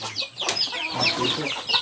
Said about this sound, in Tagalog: sa kwarto mo mismo may manok na